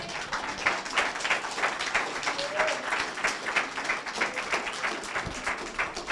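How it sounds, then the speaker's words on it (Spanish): A church congregation applauds, a dense steady patter of many hands clapping with a faint tone partway through, evenly sustained at moderate level. "Dar un aplauso a Dios"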